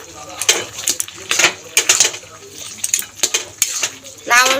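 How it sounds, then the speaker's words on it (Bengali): A spoon stirs bottle gourd curry (lau sukto) in a metal pot, a series of irregular scraping clinks and knocks against the pot, then a lid clatters on. "এবার ভালো করে নেড়ে চেড়ে মিশিয়ে একটুখানি আর একটুখানি ঢাকা দিয়ে দেবো"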